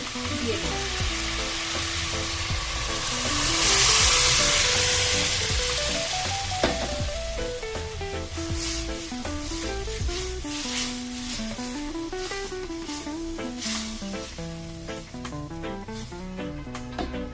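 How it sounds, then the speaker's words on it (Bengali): Dal tipped into spices frying in a pan gives a loud hiss that swells around the fourth second, then settles into a steady sizzle under melodic background music. "এবার আমি ডালটা এর মধ্যে দিয়ে দেব।"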